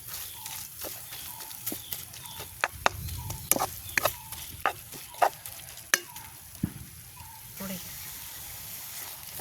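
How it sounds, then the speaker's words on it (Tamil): Fish and tomatoes stirred in a pan with a spoon, giving repeated close knocks and scrapes over a soft sizzle, with a voice talking over the cooking. "தக்காளி பழமும் மீனும் சேரும்படி நல்ல வடிவா இப்படியே கிண்டுவோம்"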